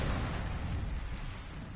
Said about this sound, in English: I think I just totaled the car